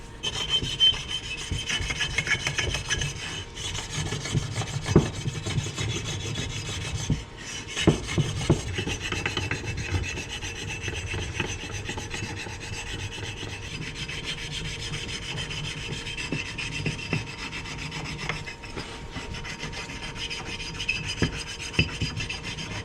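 Close, uneven scraping and rubbing as glazing is scrubbed off a plated engine cylinder during a top end rebuild, with irregular strokes and small knocks, no voices.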